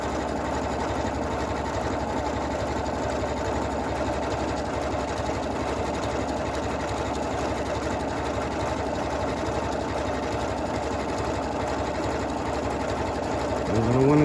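Sewing machine running steadily while stitching a quilt block, a continuous even mechanical whir with a fast rhythmic needle chatter, close and loud throughout, slowing slightly near the end.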